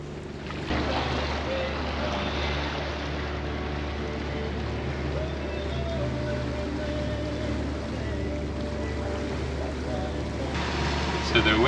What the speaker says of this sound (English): So the wind is busy picking up.